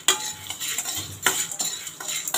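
A spoon scrapes and clinks against a pan as salt is stirred into annapodi spice mix being dry-roasted, giving quick, uneven strokes at close range with no voices.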